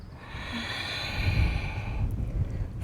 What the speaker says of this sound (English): inhale, lift up slightly, and then exhale, pull a little bit deeper. You've got 3 more breaths here. Each breath a little deeper.